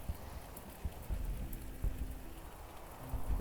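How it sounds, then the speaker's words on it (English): Steady rain falls in a strategy video game, a soft even hiss of drops with faint low rumbles, quiet throughout. "Now it's raining."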